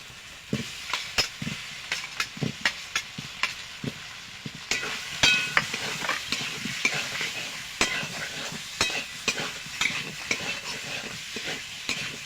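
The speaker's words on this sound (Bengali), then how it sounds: "মশলাটা আমি কষিয়ে নিয়েছি ভালো করে এবার আলুগুলো দিয়ে দেবো" Potatoes frying in spice paste with turmeric in a pan, a steady sizzle under repeated sharp scrapes and knocks of a stirring spoon, close up with no speech.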